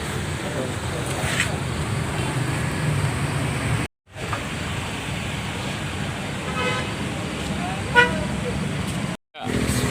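Busy road traffic with dozens of cars during an Aceh MTQ event, a steady roar of passing vehicles with a car horn toot or two and voices talking over it.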